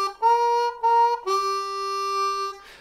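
Blues harmonica filler on a C harmonica using 2-draw and 3-draw notes in a slow 12-bar blues: a few short held tones followed by one long sustained note, played alone and close.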